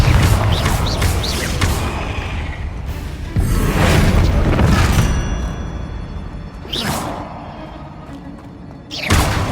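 Confringo fire spell explosions in the game Hogwarts Legacy, several loud whooshing blasts and thuds in a row with a roaring tail between them, closest and sharpest toward the end.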